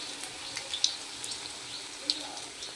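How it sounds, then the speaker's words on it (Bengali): Chicken pakora frying in hot oil, a steady soft sizzling hiss with a couple of faint pops, heard close and alone without talk. "ভাজা চলছে"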